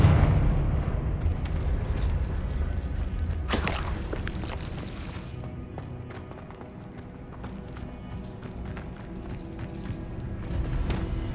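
A Confringo blasting spell from a Harry Potter video game goes off in a sharp, loud burst, and an earlier low rumble fades into a muffled, busy background.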